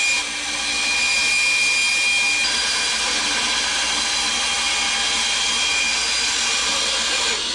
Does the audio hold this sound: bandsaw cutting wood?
yes